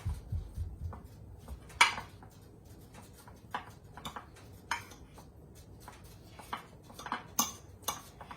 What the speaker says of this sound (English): Mix them together.